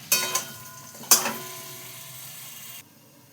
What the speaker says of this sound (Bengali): এবার আমি মাংসটাকে ভালো করে কষিয়ে নেবো, ঢাকা চাপা দিয়ে কষিয়ে নেবো